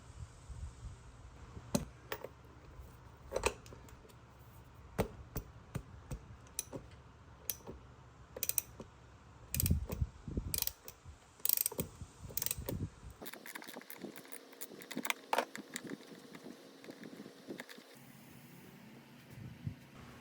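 Ratchet wrench with a 19mm deep socket loosening the PCV valve on a Subaru EJ251 engine, giving repeated close clicking ratchet strokes in uneven bursts, with clunks of the tool against the engine.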